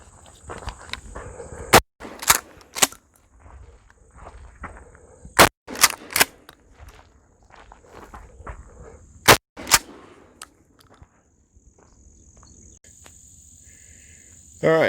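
A home defense shotgun with a 14-inch barrel fires birdshot and Estate double-aught buckshot from 10 feet. Sharp, loud shots come in short clusters of two or three, separated by quiet stretches with crickets chirping in the background.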